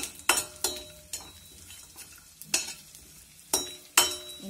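Edible gum (gond) roasting in a few spoonfuls of hot ghee, with a steady close sizzle broken by sharp spoon-against-pan scrapes and clinks at uneven intervals, no voices.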